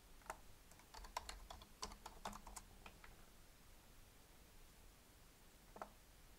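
Keystrokes on a computer keyboard while searching in the top bar of the WebOS 2.9 interface on a Raspberry Pi 4/400, a quick flurry of close, light clicks for about three seconds, then a pause and one more brief burst.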